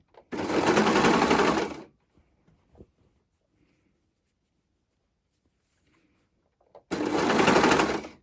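A sewing machine runs in two bursts while stitching a sweater seam, each lasting about a second and a half of steady, loud whirring. The bursts are separated by a long near-silent gap holding only faint handling noises.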